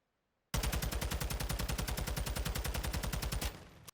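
TAQ 56 rifle firing a full-auto burst in a video game recoil test, about three seconds of rapid, evenly spaced, loud shots that stop abruptly into a brief tail.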